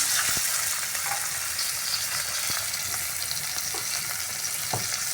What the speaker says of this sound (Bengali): এর মধ্যে আমি সিদ্ধ করে কেটে রাখা আলুটা ফ্রাই করে নিচ্ছি